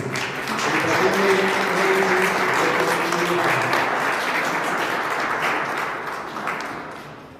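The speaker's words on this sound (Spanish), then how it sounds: "Aplausos para Génesis" A congregation at a baptism claps for Génesis, a dense, steady wash of applause that holds for several seconds and then tapers off, with faint voices mixed underneath.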